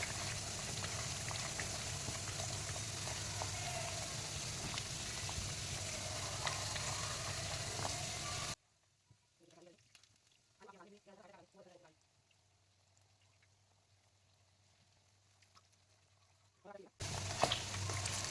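Masala with yogurt fries in a pan with a steady, close hissing sizzle for several seconds, then drops to near silence broken by faint voice-like murmurs before the sizzle returns loudly.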